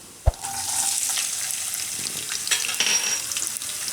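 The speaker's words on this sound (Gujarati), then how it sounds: "તેલ આપણું ગરમ થઈ ગયું છે. એમાં આપણે નાખશું પહેલાં જીરું અને લસણ." Cumin seeds and garlic dropped into hot oil for a sprouted fenugreek pulao: a sharp thump as they hit, then a bright, crackling sizzle that holds steady and close for several seconds, no voices.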